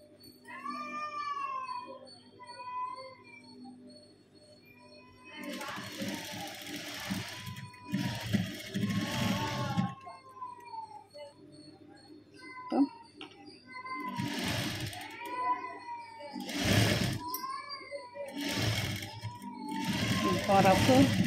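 Sewing machine stitching a folded seam on a handbag, heard in short bursts of whirring runs between pauses, mixed with a cat's meows and a person talking.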